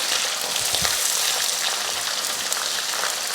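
Onion, green chilli, garlic and curry leaves sautéing in a hot pan for a chutney, giving a steady, close, continuous sizzle and crackle with faint stirring, no voices.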